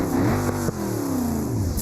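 Car engine in the BeamNG driving game idling steadily, then rising and falling in pitch as it is revved, loud and continuous with no talking.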